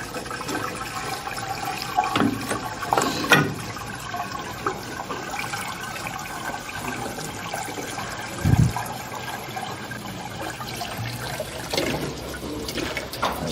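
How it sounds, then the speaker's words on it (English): Sugar water is poured into the opening of an Italian ice machine, giving a continuous liquid rush and trickle at moderate level with a brief thump partway through. "Pour it in the opening here."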